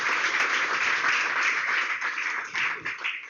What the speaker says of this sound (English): So please, an applause for Mr. Stephen Cowley.